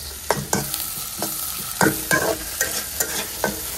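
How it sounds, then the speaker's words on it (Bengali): Shrimp being stir-fried in a pan with lightly fried onion, a continuous sizzle punctuated by sharp spatula scrapes and knocks at an uneven pace, close and clear with nobody talking. "আগে হচ্ছে আমি এই চিংড়ি মাছটা ভুনা করব"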